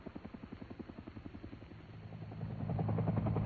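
Air Force UH-1 helicopter with a steady rhythmic rotor thump that builds into a louder, denser engine and blade roar, close and alone.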